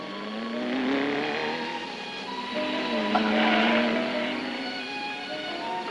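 A car engine drones as the vehicle drives by, a smooth tonal hum that swells and shifts in pitch, rising twice before easing away, with no talk.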